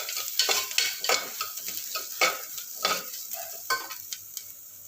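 Onions frying in a pan until reddish-brown for a chicken, drumstick and potato curry, a crackling sizzle broken by repeated scraping stirs of a spatula at close range.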